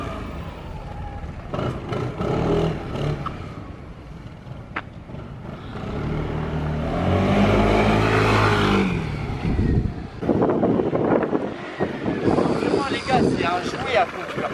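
A Beverly 400 scooter, still in its break-in period and kept at low revs, hums and accelerates while riding, with someone talking loudly over the engine and wind throughout.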